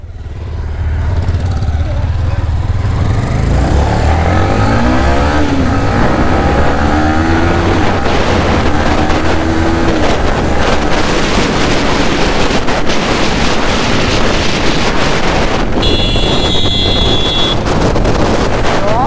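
Hero XPulse 200 motorcycle riding along with a steady engine drone and heavy wind buffeting on the microphone, continuous and fairly loud throughout.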